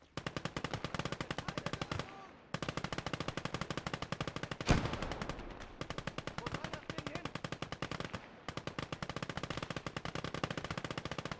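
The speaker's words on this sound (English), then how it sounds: "the MG34 is going to town, gunning down some of the guys" An MG34 machine gun rattles off long rapid bursts in the video game Gates of Hell: Ostfront, loud and close, broken by short pauses and one heavier blast midway.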